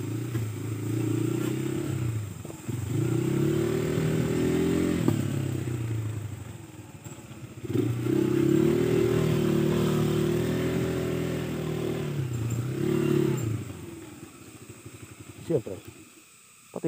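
A motorcycle engine labors on an uphill dirt trail, droning steadily with shifting pitch across long pulls, close and continuous, with brief dips and a rough, clattering edge near the end.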